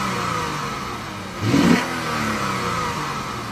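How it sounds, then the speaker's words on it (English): A 2013 Lexus GS350 F-Sport revs once through its tuned exhaust, a short swelling burst of engine tone rising over a steady idle and fading back, close by with no talking. "You can definitely hear that more pronounced tone from the F-Sport's specific tuned exhaust system."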